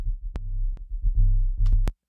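Distorted sub bass heard without its EQ cut at 150 hertz, so buzzy upper harmonics ride on the deep throbbing tone, punctuated by several sharp transient clicks and stopping abruptly.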